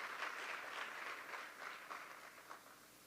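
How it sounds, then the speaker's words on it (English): A crowd at a grant distribution ceremony applauds steadily, the clapping dense and fairly distant, tapering slightly toward the end. "I give you a round of applause for that this afternoon."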